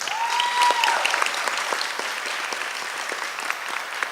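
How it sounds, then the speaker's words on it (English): Audience at an honors award assembly applauds, a steady wash of many hands clapping at moderate distance, lasting the full four seconds with no one speaking. "Please give them a round of applause."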